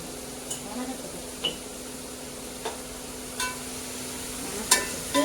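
Onions frying in a pan with a little salt added give a steady soft sizzle, with a few sharp clicks of a utensil against the pan scattered throughout.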